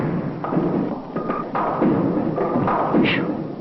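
A bowling ball strikes pins on a lane in a string of separate thuds and clatters, moderately close and fairly soft, with no speech.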